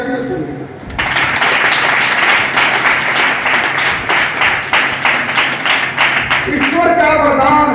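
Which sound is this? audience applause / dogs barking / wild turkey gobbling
audience applause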